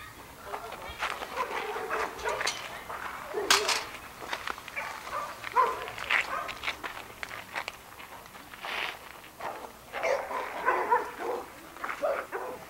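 Several dogs barking in short scattered bursts at a dog park with sprinklers, one apparently a golden retriever mix, mid-distance amid crowd noise, footsteps and nearby talk.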